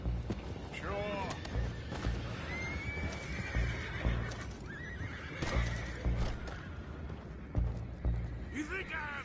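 Horses in the video game Red Dead Redemption 2 neigh and whinny several times over clip-clopping hooves and a busy, rumbling background, with voices faintly mixed in.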